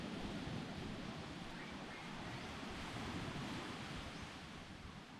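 Sea waves wash onto a sandy beach at Rayong on the Thai coast, a broad, continuous rushing roar with gentle swells in intensity, steady and enveloping with no distinct voices over it.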